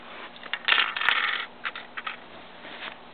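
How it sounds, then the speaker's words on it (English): Coins clatter and jingle in a Lego coin pusher, a burst of metallic tinkling followed by a few scattered drops, close and clear. "A lot of coins are falling right now."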